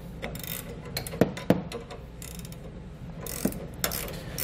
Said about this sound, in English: we can go ahead and snug up the hardware